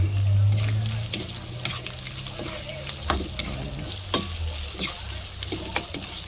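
Pork belly sautés with aromatics in a pan: a close, continuous sizzle under repeated sharp scraping and clanking stirs, with a louder low hum at the start and no speech.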